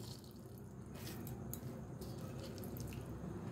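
Water dripping and trickling from soaked bread slices being squeezed out by hand while making bread egg balls, a steady soft patter of drops close by with no talk.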